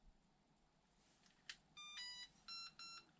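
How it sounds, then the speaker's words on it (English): A HOSIM 1/16-scale RC car remote beeps as it binds with the car: a short chirp, then three sustained electronic tones in a quick, uneven sequence. The beeps are fairly quiet over a low background hiss, with no talking. "The remote lights up, makes all kinds of like tones, beeps."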